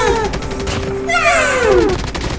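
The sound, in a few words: gun firing in mobile shooting video game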